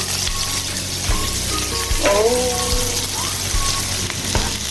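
Onion frying in a pan, a steady loud hiss and crackle of sizzling oil, close by, with a few faint clinks and short tonal sounds over it.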